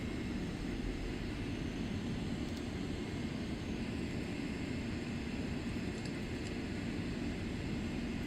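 A simulated aircraft engine in flight in Microsoft Flight Simulator 2024, just after takeoff from Castro. A steady, faint, broadband cockpit drone with no talk.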